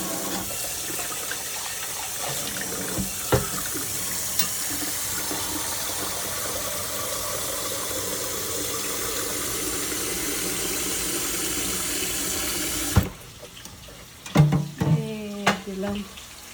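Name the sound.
water running into a pot to heat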